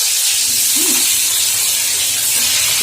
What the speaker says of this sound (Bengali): এবার উদ্রি আর কুমড়োটা আমি এর মধ্যে দিয়ে দিচ্ছি